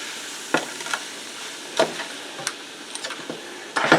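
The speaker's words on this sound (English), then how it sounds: "Get them onions and that garlic all mixed up in there" Onions and garlic stirred in a pan for a vegetarian Greek pizza topping, with a steady low sizzle and several sharp scraping stirs, including a louder burst near the end; no talking.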